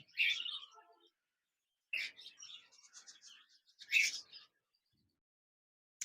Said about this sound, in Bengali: এখানে দেখতে পাচ্ছেন একজোড়া জাপানিজ বাজরিগার পাখি রয়েছে